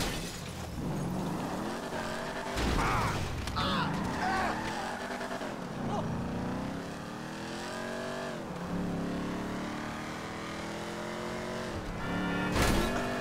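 A car in GTA Online on Xbox drives hard with a steady engine roar, revving and shifting pitch, with tires squealing through turns and spins and a sharp burst near the end.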